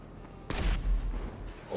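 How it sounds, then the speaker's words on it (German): A sudden heavy burst of gunfire in a GTA Online firefight, booming blasts after a quiet half-second, then rumbling decay and a further crack near the end. "Ich stehe gerade mitten in dem, im Feuergefecht."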